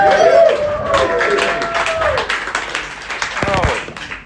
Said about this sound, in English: Start clapping right now for Andy Sandford!